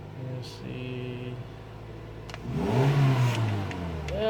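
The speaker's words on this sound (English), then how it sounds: "I'm gonna rev it and leave it revving." A car engine idles with a low hum, then revs up loudly and holds at a higher pitch before easing back slightly.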